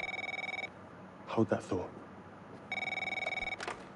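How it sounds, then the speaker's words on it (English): Telephone ringing in The Devil in Me video game: a steady trilling bell rings for about a second, pauses while a voice speaks, then rings again near the end. "Oh, it's ringing."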